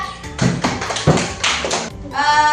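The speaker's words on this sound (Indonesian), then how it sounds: "Tepuk tangan dulu kita." A classroom of pupils claps hands together in a few short bursts of clapping and tapping, close and moderately loud, ending with a brief voice.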